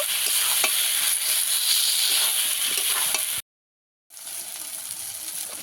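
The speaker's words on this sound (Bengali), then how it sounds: "আলু, এঁচড় আর মশলা একসঙ্গে কিছুক্ষণ কষিয়ে নেব।" Fried potato and green jackfruit sautéing with spices in a pan: a loud, steady sizzle with light stirring scrapes, briefly cut to silence before the sizzling resumes.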